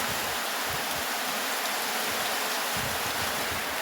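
Heavy rain pours steadily onto a farm field, a dense, even hiss that lasts throughout with no pauses and no voices.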